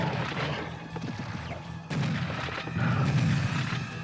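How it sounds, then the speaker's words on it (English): Grenade explosion in a retro first-person shooter played on a GeForce3 Ti 500 PC, a muffled boom among scattered game gunfire and clatter, fairly quiet and with no talking. "Managed to blow him up with the grenade"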